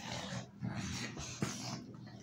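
An American Bully type bulldog pants and snorts close by in quick, breathy rhythmic puffs, with occasional louder snuffles.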